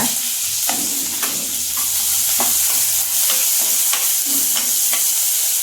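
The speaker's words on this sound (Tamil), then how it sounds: "இப்போ இந்த வெங்காயம் வதங்கிட்டு இருக்கும்போது" Garlic and onion sizzle steadily in a pan over medium flame while being stirred for a Tamil-style carrot, avarakkai and beetroot poriyal, with repeated scraping strokes of a spoon over the continuous frying hiss.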